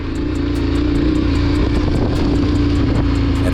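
A KTM 1190 cc V-twin adventure motorcycle engine runs loud and close in a steady, unbroken drone with a fast, even pulsing throb.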